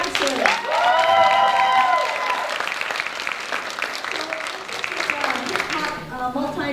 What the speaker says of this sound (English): Huge round of applause for Antics Dancers.